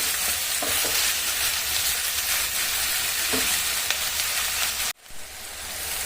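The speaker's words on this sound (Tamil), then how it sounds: "நல்லா இந்த மாதிரி வதக்கி விட்டுருங்க வெங்காயம் நல்லா செவந்து வர வரைக்கும் நல்லா வதக்கி விட்டுடலாம்" Onions sauté in a pan with a dense, steady sizzle and occasional stirring scrapes, close by, until the sound drops off sharply near the end before faint sizzling returns.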